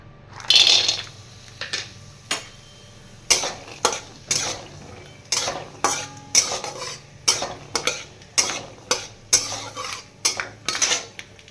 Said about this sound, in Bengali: বাদামটাকে ভেজে নেবো বুঝেছ তারপর আলুটাকে ভাজো